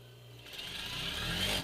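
A sewing machine runs briefly through a seam on a medical mask, starting with a low motor hum and then rising into a quick, close, whirring stitch that stops abruptly.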